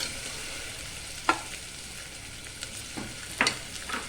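Frozen peas fry in a pan with a continuous soft sizzle, close and fairly quiet, broken by a few sharp clicks and scrapes of stirring.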